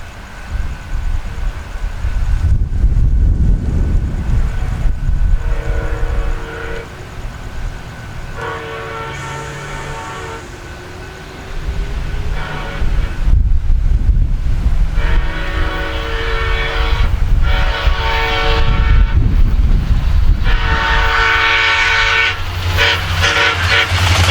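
A train rumbles past in Central Florida, heavy and close, with several long horn blasts sounding over the steady rolling noise of the wagons and the track.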